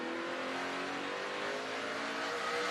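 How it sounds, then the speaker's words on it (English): A NASCAR truck engine revs hard at Martinsville Speedway, a continuous loud, buzzing race-engine roar that rises and falls slightly as the throttle is worked, with no talk. "Listen to him work that gas."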